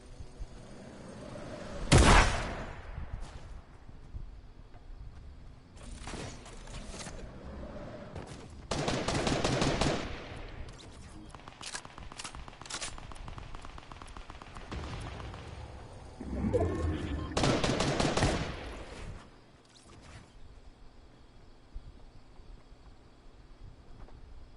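Combat shotgun fire in Fortnite: several loud, sharp shots at irregular spacing, some in quick bursts, over a constant game background.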